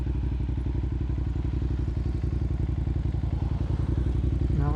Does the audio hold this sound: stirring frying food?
no